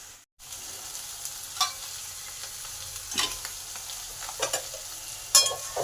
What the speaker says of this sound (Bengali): এগুলো পেঁয়াজের সাথে ভালোভাবে ভাজা হয়ে যাবে